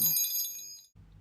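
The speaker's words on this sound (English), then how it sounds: "The chimes hanging above the door play a ditty" Chimes hanging above a bait shop door ring in a bright, shimmering metallic burst that fades out within a second, followed by a low hum.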